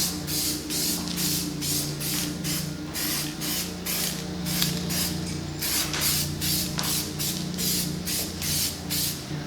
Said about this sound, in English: and then start spraying.